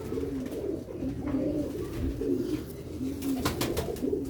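Purebred pigeons coo close by in a repeated low, throaty rhythm, with a few sharper sounds near the end.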